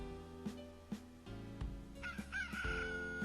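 A rooster crows in a Summer Paradise dating sim video game, quiet and drawn out over steady game background music with soft repeated percussive taps.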